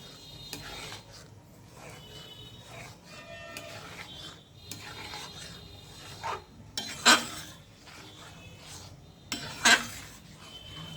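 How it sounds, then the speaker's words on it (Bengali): Mango pulp is stirred in a kadai, with intermittent scraping and rasping of a spoon against the metal and a couple of louder clanks in the second half. "এবার আমি নাড়তে থাকবো"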